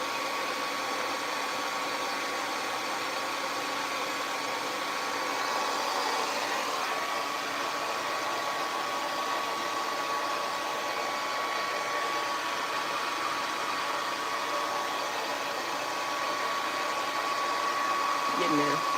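A hair dryer runs steadily on a grey wig, a constant loud whooshing hum that stays even throughout with no breaks.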